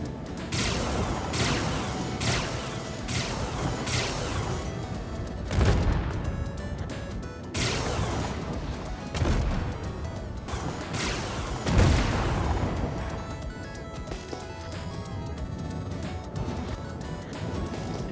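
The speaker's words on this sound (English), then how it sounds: "Well, I'm gonna shoot back, and I'm a little bit better at shooting than he is." Ship weapons on an Esperia Glaive fire in the Star Citizen space game, loud repeated bursts of booming shots at roughly regular intervals over a continuous hum, with no talk.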